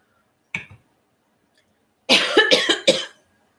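One short cough, then a pause and a burst of three or four harsh, close coughs in quick succession, loud and with no other sound.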